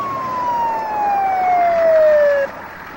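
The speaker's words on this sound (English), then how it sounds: "Ten minutes later, the ambulance arrived" An ambulance siren wails in a single long tone that slides steadily downward in pitch, loud and fairly close, then cuts off abruptly near the end.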